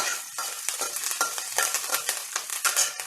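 Curry leaves frying in hot oil for a soya tomato palav, a dense crackling sizzle broken by repeated sharp stirring scrapes, close and steady with no voices.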